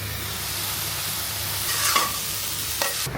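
Leftover cooked rice frying in a pan, a continuous close sizzle with a few scrapes and clinks of a spatula toward the end, no talking.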